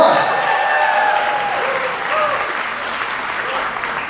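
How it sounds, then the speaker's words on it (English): Guests at a wedding reception give a warm round of applause, dense clapping from a crowd that holds steady and gradually tapers, with a few voices mixed in. "let's give a big round of applause for him"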